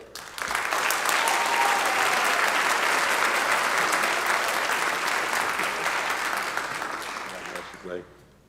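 Audience applause at a school spring band concert during an awards presentation, a sustained burst of clapping that rises quickly, holds steady for several seconds, then tapers off before a short final flurry.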